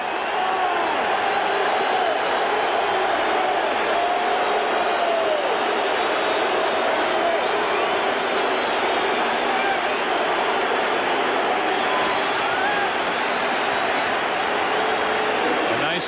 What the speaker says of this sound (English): ovation from this crowd now at Wrigley